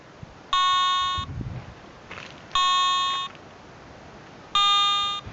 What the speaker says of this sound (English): we'll get the beeps to indicate that it's got a quiet operating frequency